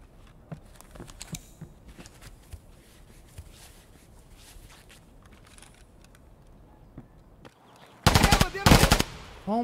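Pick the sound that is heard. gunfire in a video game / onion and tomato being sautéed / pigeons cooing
gunfire in a video game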